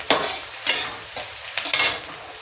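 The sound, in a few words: fried rice frying and being stirred in pan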